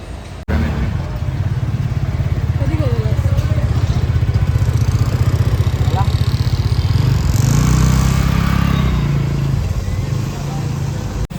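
A parked vehicle's engine runs steadily at a Ganesh immersion procession in Khopoli, a close, constant rumbling idle with rattling texture that lasts throughout, while people talk and crowd noise carries in the background.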